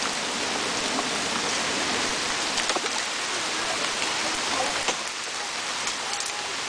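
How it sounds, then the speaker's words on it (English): Hail pelts a plastic kayak in a storm, a dense steady hiss of countless small impacts with occasional sharper ticks, loud and continuous with no talk. "Some plastic noise sounds for the hail hitting my boat."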